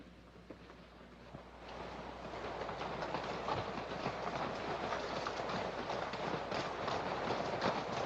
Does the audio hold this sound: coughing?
no